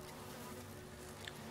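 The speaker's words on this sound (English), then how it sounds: "Ah, too many bees!" Swarming bees buzz continuously in the Resident Evil Remake video game, a steady, fairly faint drone with no voices.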